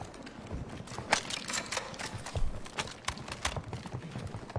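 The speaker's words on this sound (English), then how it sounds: "I hear footsteps that aren't ours" Footsteps from a shooter video game sound as a run of irregular, sharp clicking steps with a clip-clop quality, moderately loud over a busy game background, with no talking.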